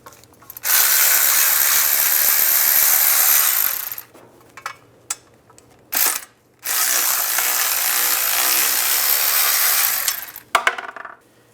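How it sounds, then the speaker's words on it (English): A 10 mm socket ratchet clicks rapidly and steadily in long close runs while removing shield bolts on a 2007-2013 Chevrolet Silverado, broken by brief pauses and a few metallic clinks. "take these 2 bolts out, use a 10 millimeter socket"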